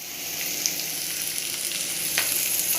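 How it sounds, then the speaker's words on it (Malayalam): A vegetable mezhukkupuratti stir-fry in a pan gives off a loud, even sizzle with faint scraping as it is stirred, close and continuous without speech. "ഇളക്കി കൊടുക്കാം"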